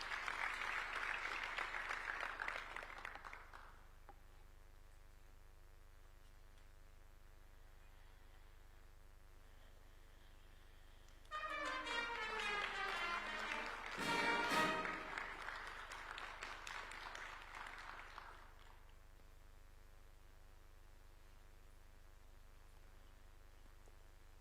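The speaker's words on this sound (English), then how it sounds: "A round of applause for her, please." Applause during a Kenyan presidential swearing-in ceremony for a Supreme Court judge: faint, distant crowd clapping in two stretches, the first fading out early and the second rising again later over a steady hum.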